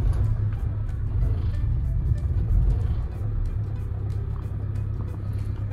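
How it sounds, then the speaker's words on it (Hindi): A car engine runs with a steady low rumble on a cold, snowy mountain morning. The idle stays even and fairly loud from start to finish, with no voices. "तो करता हूँ गाड़ी स्टार्ट"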